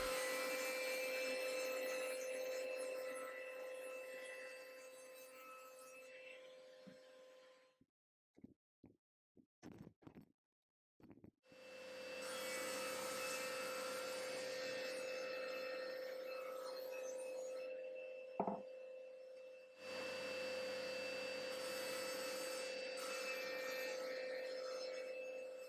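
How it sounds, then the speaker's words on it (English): Miter saw whines steadily while cutting wooden furniture legs for a Scandinavian-style credenza, pausing for a run of sharp taps and knocks, then spinning up again for a second long, even cut. "Even though my miter saw is not very precise, when the rails are not extended, it is still able to cut square."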